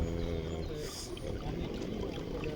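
Model paddle steamer with an oscillating steam engine running at about 35 cc, a steady churning wash of paddle and water noise with faint mechanical hum, mid-distance and continuous.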